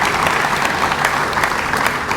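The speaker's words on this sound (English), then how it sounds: "If y'all can give them a round of applause for helping us put this together" An audience applauds loudly and continuously at a touchdown club's opening meeting, dense clapping throughout.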